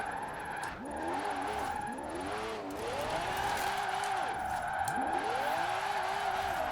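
A McLaren 600LT in Forza Horizon 4 slides sideways, its engine note swooping up and down in repeated revving arcs over a steady loud roar, with a tire-squeal edge and no talk.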